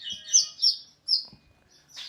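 A songbird, a konin in a bird-contest setting, gives a few quick bright chirps and short trills close by, with brief pauses between the bursts.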